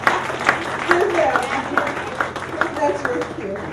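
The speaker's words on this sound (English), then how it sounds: "give them a round of applause." A crowd applauding at a college awards ceremony, with many hands clapping in a dense, sustained patter that carries steadily through the whole stretch.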